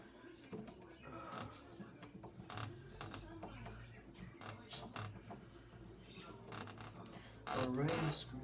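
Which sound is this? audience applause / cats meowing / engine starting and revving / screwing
screwing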